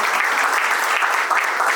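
Wedding guests at a civil and religious ceremony applaud, a steady, loud, close burst of clapping that fills the short clip without talk.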